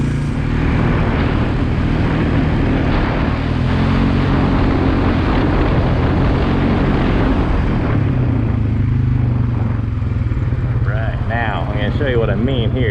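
A Polaris Sportsman 450 ATV fitted with 28-inch Mega Mayhem tires crawls along a trail at about 5 mph, its engine droning loud and steady right at the listener, with a voice talking over it near the end.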